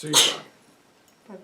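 A single sharp human sneeze, close and loud at the start, in an indoor philosophy club gathering in central France, followed by brief quiet and then a short spoken word.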